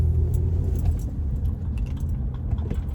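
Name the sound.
car driving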